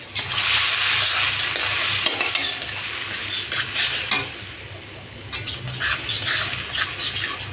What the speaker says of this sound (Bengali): ভালোভাবে কষিয়ে নিব মশলাটা।